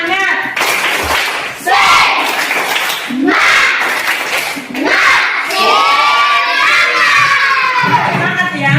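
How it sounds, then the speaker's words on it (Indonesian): Schoolchildren in a classroom perform a rhythmic clap-and-shout spirit chant, sharp bursts of group clapping alternating with loud unison shouted calls, close and energetic. "kita kasih tepuk semangat ya"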